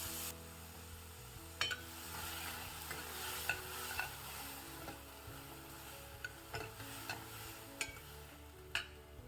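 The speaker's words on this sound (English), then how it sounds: "frying the crushed berries for about 3 to 4 minutes" Oil sizzles steadily in a pan as crushed turkey berries fry for a curry, with occasional scraping and tapping from a spoon stirring it, close and moderately quiet.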